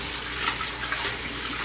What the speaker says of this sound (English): Rinse this out to shock it.